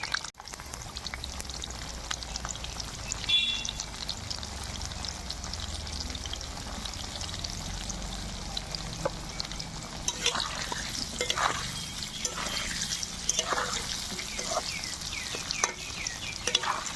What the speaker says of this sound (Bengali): সামান্য একটু হলুদ আর লবণ দিয়ে আলুগুলো আগে লাল লাল করে ভেজে নেব।